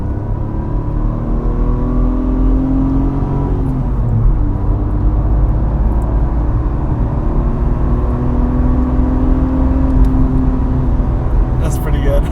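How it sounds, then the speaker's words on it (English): A car's engine is revved out hard, a loud sustained drone and rumble that climbs and holds through the whole stretch, with people talking over it. "what I do really love about this car is you can just really rev it out"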